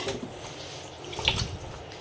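Water poured off into a basin while washing the deity's items during Thakur Ji worship at home, a short close trickling splash with a brief brighter drip, no talk.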